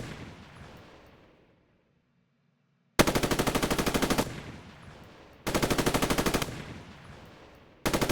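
Machine gun fire in the Roblox military sim game: two long, loud, steady automatic bursts of a few seconds each, separated by a quiet pause, with a third burst starting at the end.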